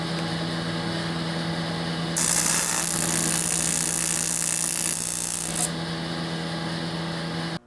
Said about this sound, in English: now we can just go and weld these shut